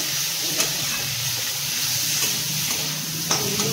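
Spice paste (masala) fries steadily in a pan, giving a continuous close sizzle and hiss. Small pops and crackles break through now and then, and no one speaks.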